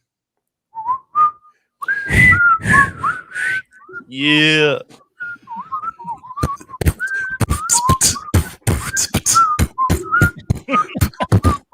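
A person whistles a spooky Halloween tune up close, in bright wavering notes that break off and resume, with brief voices and laughter around them.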